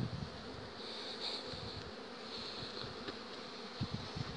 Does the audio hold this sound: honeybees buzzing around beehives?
yes